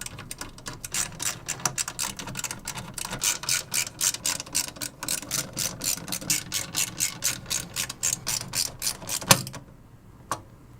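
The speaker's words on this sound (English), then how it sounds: "Secure the motherboard using the screws included with the case." A screwdriver ratchets screws to fix an ASUS STRIX X299-E Gaming motherboard into a PC case, making a fast, even run of crisp clicks that stops near the end, leaving brief quiet.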